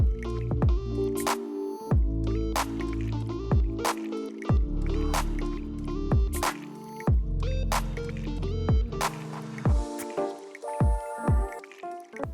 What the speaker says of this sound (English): they're quickly mixing up a blend of top coat and chip, which they'll then hand apply